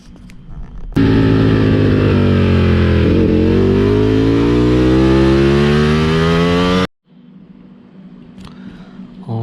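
A Ducati motorcycle on a race circuit accelerates hard out of the third corner, engine note climbing steadily through a loud, close rev for several seconds before cutting off abruptly, leaving quieter background noise.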